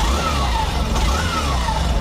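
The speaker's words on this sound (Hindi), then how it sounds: "कुछ ऐसा आपको जो यहाँ पर इंजन साउंड मिलता है।" A Hero Glamour Xtec 125cc motorcycle engine runs steadily at idle, a continuous low mechanical thrum with an even, unbroken level throughout and no voices.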